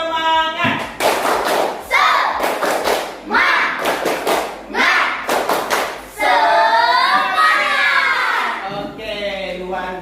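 A classroom group performs the 'tepuk semangat' spirit clapping routine, loud rhythmic clap bursts in a set pattern mixed with chanting voices, ending in a drawn-out group shout.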